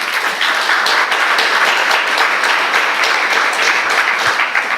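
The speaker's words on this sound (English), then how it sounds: "Give yourself a round of applause." Loud, continuous applause from an audience at a heavy-duty equipment training closing ceremony, dense and even clapping sustained for several seconds without pause.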